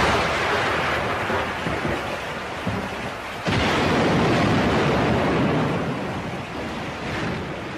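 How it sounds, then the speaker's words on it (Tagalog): A thunderstorm with heavy rain roars steadily and loudly, a dense wash of falling water with rumbling undertones that surges sharply halfway through, with no talking. "may bagyo ba?"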